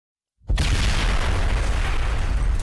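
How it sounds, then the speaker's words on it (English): A shotgun firing a shredder round loaded with razor blades: one sudden, very loud close blast after a brief silence, followed by a sustained roaring rumble that fills the rest. "Let's shoot something. Let's see how good it slices. The shredder round."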